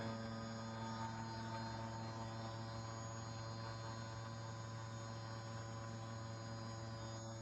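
An industrial air compressor runs quietly, a faint, constant low hum with steady tonal drone and no variation throughout, no voices.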